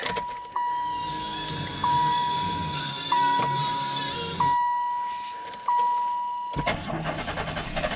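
A Silhouette van engine, just fitted with new spark plug wires, cranks repeatedly in short bursts with a high warning chime pulsing throughout, then catches and fires up near the end.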